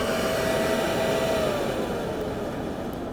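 A two-in-one waste-oil burner flame roars steadily at close range, a loud continuous broadband whoosh with a faint tonal hum, easing slightly toward the end.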